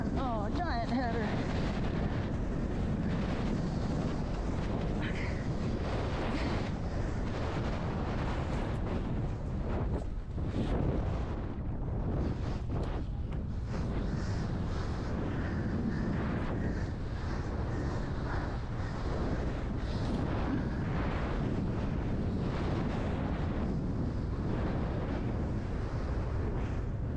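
Strong gusting wind at a Hawaii wing foil championship race on open water, a continuous loud buffeting roar across the microphone with shifting surges, a voice briefly audible under it.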